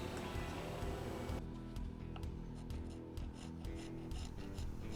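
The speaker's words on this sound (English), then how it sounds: "I'm going to start scraping this stuff off." Steady rasping scrape of old epoxy being worked off a guitar headstock during a carbon fiber restoration, close and continuous, with a louder harsh stretch at the start followed by repeated softer strokes.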